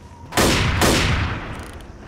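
Video game gunfire in Left 4 Dead, a loud burst of shots firing in quick succession that rings out and then fades into a lingering noisy tail.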